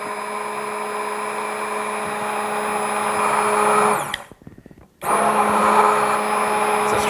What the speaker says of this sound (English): I want to leave the blender running and pour a slow, steady stream.